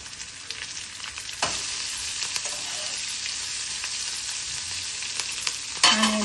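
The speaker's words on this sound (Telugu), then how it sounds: "ఆనియన్ కూడా వేసుకొని వేయించాలి." Chopped onion sizzles steadily with garlic in a hot oiled pan, giving a constant close frying hiss with occasional stirring scrapes and no talking.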